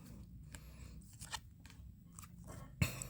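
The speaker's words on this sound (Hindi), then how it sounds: "please Mahadev guide me last shuffle" Tarot cards being shuffled by hand in quiet, short papery bursts and rustles, faint and close, with one sharper snap near the end.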